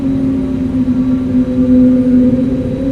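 Airliner engines in a flight simulator run at takeoff thrust, giving a steady, loud, droning roar with a sustained low hum and no voices.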